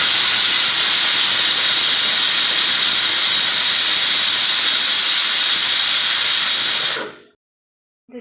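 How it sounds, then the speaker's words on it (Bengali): A pressure cooker of mutton curry lets out a loud, steady steam whistle and hiss for about seven seconds, then it cuts off abruptly into near silence with a faint click at the end. "এবার আমি মাংসটাকে সিটি হওয়ার জন্য বসিয়ে দিলাম।"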